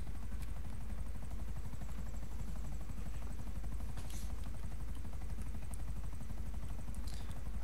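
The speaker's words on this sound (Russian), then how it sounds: "Сань, у меня ну, вертолет глохнет." A helicopter engine in GTA 5 sputters and dies out as it stalls. A steady, throbbing rotor and engine drone runs loud and close the whole time, with no voices over it.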